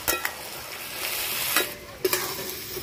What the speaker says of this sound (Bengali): এবার মটরটা দিয়ে অল্প একটু কষাবো, কষিয়ে গরম জল দিয়ে দেব।